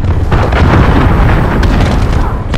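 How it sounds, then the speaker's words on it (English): A cruise missile detonates in Call of Duty Modern Warfare with a loud, close, rumbling blast that fills the whole moment with heavy low booming and crackling debris. "Enemy cruise missile."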